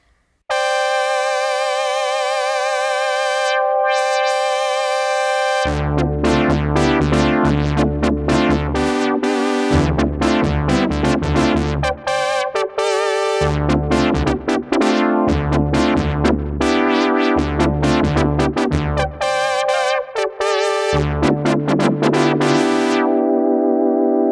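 A Moog Muse synthesizer plays a punchy, rhythmic funk riff with a swept filter, opening on a held tone before bass-heavy repeated notes take over, loud and close.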